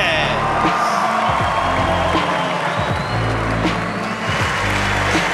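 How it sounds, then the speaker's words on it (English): A crowd cheers and applauds at a Combat Jiu-Jitsu Worlds event in Playa del Carmen, a steady loud roar with a commentator talking over it throughout. "Well, the crowd here in Playa del Carmen coming alive"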